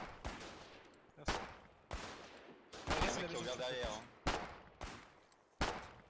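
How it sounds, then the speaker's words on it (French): Gunfire in the war video game Foxhole, sharp single shots repeating roughly every second with echoing tails, plus a louder burst of mixed battle noise in the middle. "c'est en train de se tirer dessus"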